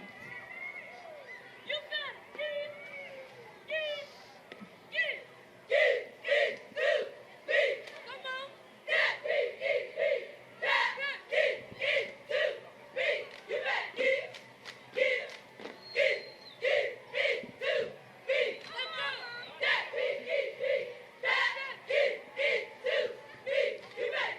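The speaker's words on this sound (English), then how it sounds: "That's a cheer from the A.L. Brown High School cheerleading squad." A high school cheerleading squad chants in unison at a Christmas parade in Kannapolis, with rhythmic shouted cheer lines punctuated by claps and stomps, loud and close, plus crowd noise in the background.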